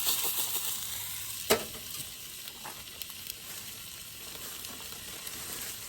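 Coffee heating in a pot on a camp stove outdoors, giving a steady faint sizzle and hiss that carries throughout, with a single sharp clink early on and a few light taps.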